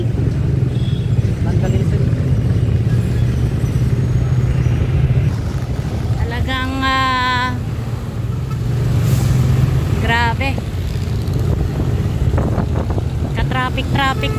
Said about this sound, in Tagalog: Ka-traffic na sa Maynila.